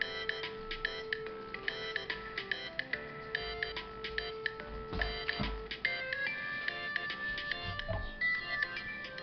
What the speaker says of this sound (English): my phone went off and I forgot to turn it off